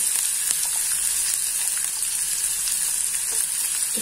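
Poha with roasted peanuts and onion sizzles steadily in a pan, a continuous bright hiss of frying with faint stirring scrapes and no voices.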